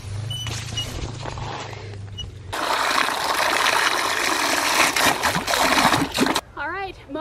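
Water from a garden hose at a garden setup bursts into a steady splashing gush after a quiet start, runs for several seconds close by, and then cuts off as a voice speaks.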